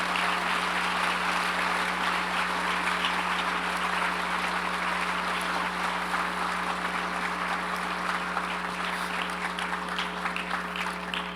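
Sustained audience applause at a church gathering, honouring single mothers; dense, steady clapping from a large crowd, loud and even throughout with a constant low hum beneath and no pause.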